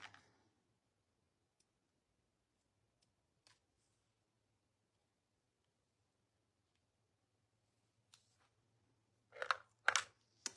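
Near silence broken by a few faint clicks, then a quick burst of sharp snipping sounds close by near the end as scissors cut ribbon.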